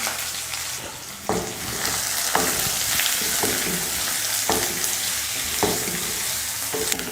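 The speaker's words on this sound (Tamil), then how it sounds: "கடுகு பொரிஞ்சதும் கருவேப்பிலை வெங்காயம் பச்சை மிளகாய்" Mustard seeds, curry leaves, sliced onion and green chillies fry in hot oil with a steady, loud, close sizzle, broken every second or so by sharper stirring scrapes, and no one talks.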